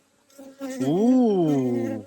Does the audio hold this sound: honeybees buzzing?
yes